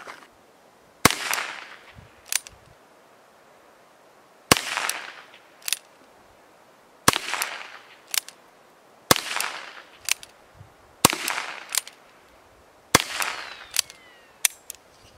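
Ruger Wrangler revolver firing CCI Quiet .22 LR subsonic rounds outdoors: about eleven sharp, snappy cracks, each fairly quiet, spaced irregularly in pairs and singles with short decays and no talk.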